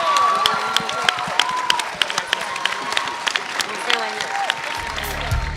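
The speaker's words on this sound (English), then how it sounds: "Big round of applause for the members of the cast." A theatre matinee audience applauds the cast, dense continuous clapping with a few whoops, steady throughout and ending with a low rumble near the close.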